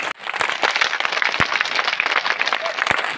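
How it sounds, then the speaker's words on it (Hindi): Audience applause at a Hindi public speech event, a crowd clapping loudly and steadily for the whole stretch, dense and sustained with a few sharper claps standing out. "1 मिनट तक इसे ताली में बदल दीजिए।"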